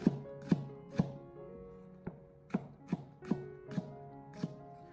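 A kitchen knife cuts an onion into thin strips about 3 mm thick on a cutting board, making about a dozen crisp, evenly spaced chops that sound close but soft.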